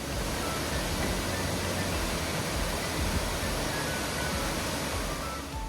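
Iruppu Falls, a 170-foot waterfall in Coorg during monsoon, roaring as a dense, unbroken wash of white noise, steady and enveloping at close range.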